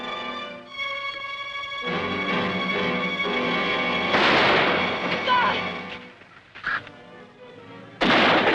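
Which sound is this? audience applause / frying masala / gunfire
gunfire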